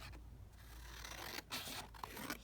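Scissors snip through leftover paper scraps during an ephemera craft session, giving a few close, crisp cutting strokes with brief rustling between them.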